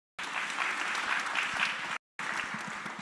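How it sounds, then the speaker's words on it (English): An audience at a science week closing ceremony applauds for a chef, a dense burst of clapping that cuts off briefly and resumes, close and steady with no voices. "can you also clap for Chef, please?"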